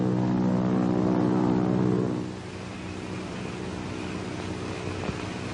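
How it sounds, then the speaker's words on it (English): An airplane's droning engine hums loudly at first, then fades to a fainter, steady drone as it flies off into the distance. "Do you hear a plane?"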